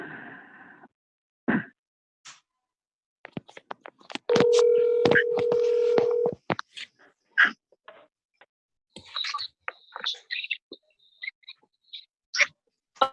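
A work telephone's dialing keypad tones beep in a quick sequence, followed by a sustained steady tone, with sparse clicks and brief voices around them in a quiet room.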